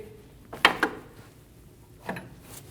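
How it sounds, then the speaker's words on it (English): A 24mm wrench breaks loose the tie rod jam nut on a Volkswagen Passat, giving two quick metallic clicks close together and then a single softer click a moment later, with quiet between them. "Using a 24mm wrench, we're going to break the jam nut free"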